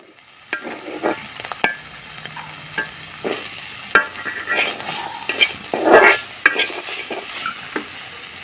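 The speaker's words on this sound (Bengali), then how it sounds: "তাই একটু পটল ভাজি করতেছি" Sliced pointed gourd (potol) fries in a pan, a continuous sizzle punctuated by repeated spatula scrapes and clinks against the metal, close and fairly loud.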